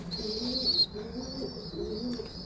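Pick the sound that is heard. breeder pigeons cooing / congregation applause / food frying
breeder pigeons cooing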